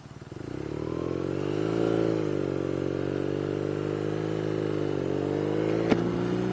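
A BMW R nineT motorcycle cruises along an open road, its steady engine drone rising briefly as it accelerates, then holding an even, close-up hum with wind rush and no voices.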